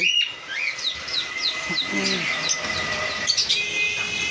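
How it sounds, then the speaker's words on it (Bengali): Caged cockatiels and java sparrows in a bird shop chirp and tweet in quick, overlapping bursts over a steady background hum, with a voice briefly audible. "এখানে দুটো ককাটেল আছে, পাল।"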